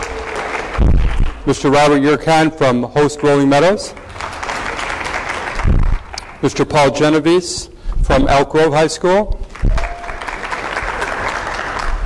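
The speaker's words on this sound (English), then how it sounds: "Who's going to get the loudest clap?" A high school financial aid night audience claps for guests from Rolling Meadows and Elk Grove as each is introduced, loud bursts of applause alternating with a man announcing names over a microphone.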